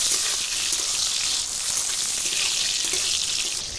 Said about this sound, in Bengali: তো কাজু কিশমিশটাকে ভেজে নিলাম